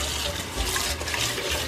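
Sticky rice (malagkit) being washed in water for biko: steady splashing and swishing of grains and water in a bowl, close and continuous with no talk.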